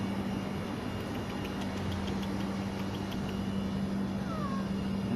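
A mother cat carrying her kittens to higher ground away from floodwater gives a few faint meows over a steady low engine-like hum and background noise, with no talking.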